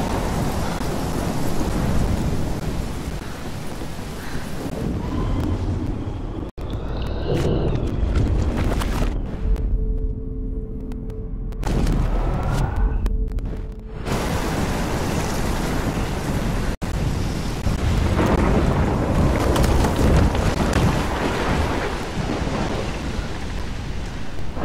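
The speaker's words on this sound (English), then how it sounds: "I've never seen a storm like this in Oregon." Loud, steady rain and rolling thunder from a stormy Oregon night in the game Life is Strange, a dense roar that briefly thins in the middle before sweeping back in with heavy crashes.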